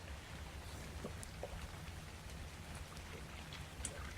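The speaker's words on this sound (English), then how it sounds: "A phenomena to listen to the rain." Steady rain falls in the survival game ARK, a continuous wash of patter with scattered nearer drops and faint low rumbling beneath, even and unbroken throughout.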